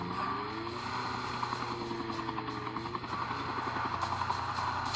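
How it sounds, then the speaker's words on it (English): A helicopter in a battle royale video game produces a steady, rotor-driven engine drone with faint, rapid blade chop throughout, continuous and moderately distant, with no speech over it. "Helicopter."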